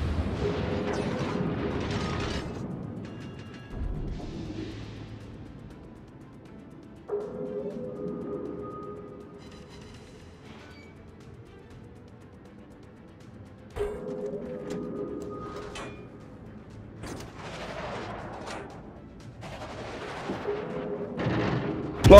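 Rapid bursts of turret gunfire in a multiplayer shooter game, repeating in clusters between quieter gaps, loud and close, with faint in-game sounds around.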